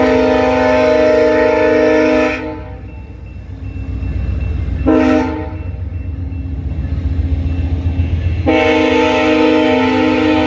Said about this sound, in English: The CN trains are still running.